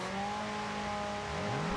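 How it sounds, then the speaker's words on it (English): Race car engines idle and rumble together in a steady, fairly faint drone at the start of a supercar showdown race, with a slight rise in pitch near the end. "the drivers just started their engines and they're ready to go"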